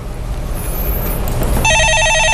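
A telephone starts ringing partway through, loud and steady, in the studio of a Korean stock-market call-in show, over a low rumble of background noise.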